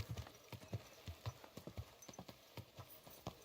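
Horse hooves clip-clopping on the ground in the Kingdom Come Deliverance II video game, a quiet steady gait of repeated hoofbeats, alone.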